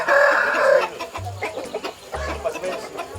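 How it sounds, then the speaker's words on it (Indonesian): Ayam bangkok fighting chickens in a village in Prabumulih cluck and crow close by, a loud crow opening the scene followed by busy, irregular clucking with some low background noise. "Kira-kira bagaimana Ayam bangkok yang ini."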